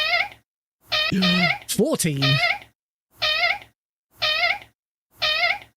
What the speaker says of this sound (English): he meows because a combination of him meowing so quiet and also really high pitched